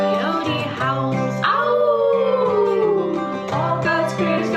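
A singing voice imitates a coyote howl during a choir song at a church Blessing of the Animals service, a long sliding wail sung over accompaniment, loud and close.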